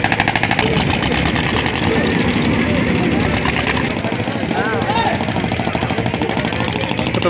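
A large river boat engine chugs loudly and continuously with a rapid rattling beat, while people talk over the noise, on a Mayapur-Nabadwip crossing.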